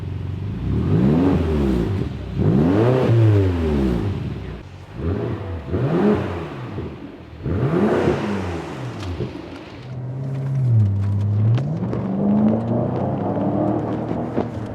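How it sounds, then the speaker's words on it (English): A loud, close BMW turbo V8 with an X-pipe exhaust revs repeatedly in rising and falling bursts, then settles into a lower throaty idle with a final climbing rev. "Actual V8 sound."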